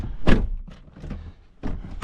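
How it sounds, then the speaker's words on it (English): A solid thunk of a 2007 Audi A3 car door shutting up close, followed by softer bumps and a second muffled thud. "Let's close the door"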